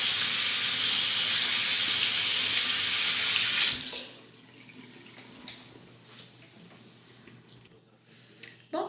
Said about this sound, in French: je vais rincer maintenant.